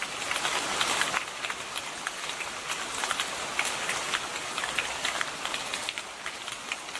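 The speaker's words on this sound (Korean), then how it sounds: "떨어진 낙엽이 빗방울과 이중주의 소리로 하나님을 찬양해요." Rain falls on fallen autumn leaves outdoors, a steady dense patter of countless small drops ticking and crackling evenly throughout.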